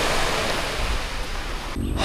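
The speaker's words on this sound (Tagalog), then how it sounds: "Dagat na, diba?" Sea waves washing onto a brown-sand beach at MacArthur Park in Palo, a steady loud broadband surf wash that drops briefly near the end before resuming.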